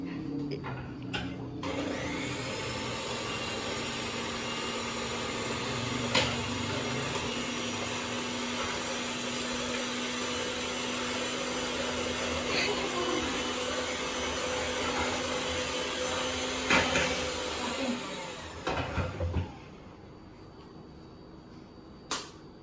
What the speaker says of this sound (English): Okay, whisk.